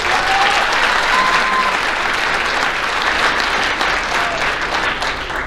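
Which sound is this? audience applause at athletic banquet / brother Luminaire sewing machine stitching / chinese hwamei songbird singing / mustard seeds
audience applause at athletic banquet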